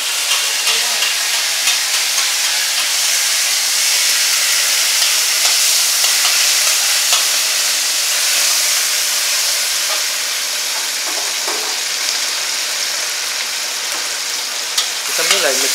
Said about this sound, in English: So you just want to fry that bean curd?